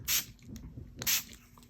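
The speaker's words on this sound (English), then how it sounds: "Okay, and then I'm going to give that a little mist." Two short, close hissing bursts from a spray bottle misting an inked rubber stamp on a craft table, about a second apart, with quiet handling in between.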